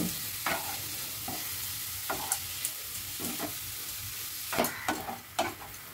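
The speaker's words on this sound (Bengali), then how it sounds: "কেটে রাখা পালং শাকটা দিয়ে দিলাম, দিয়ে আবারও সব কিছু ভালো করে মিশিয়ে নিচ্ছি" Chopped spinach frying with spices in a pan at home: steady soft sizzle under repeated scraping strokes of a spatula stirring the greens, close and continuous.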